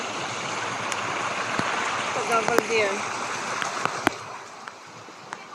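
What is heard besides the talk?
strong rushing water of a stream in the rainy season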